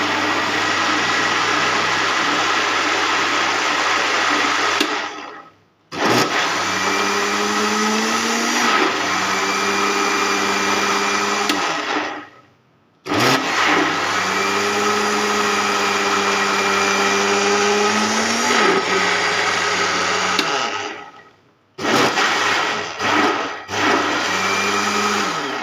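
An electric grinder blends a mango ice cream mixture, a loud, steady motor whine running in three long bursts separated by short pauses, with the pitch shifting as the load changes and a few quick pulses at the end.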